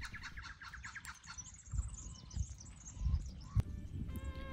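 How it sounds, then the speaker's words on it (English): Birds chirp and sing repeatedly through a quiet off-grid outdoor scene in Paradise Valley, with soft low rustling and occasional thumps underneath. "How peaceful is this silence and the birds that you're about to hear?"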